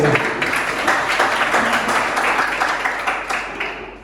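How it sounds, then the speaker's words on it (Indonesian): Applause from a group of students in an Indonesian school classroom, a dense, steady wash of clapping held at an even level for about four seconds before thinning slightly at the end. "Tepuk tangan untuk kita semua."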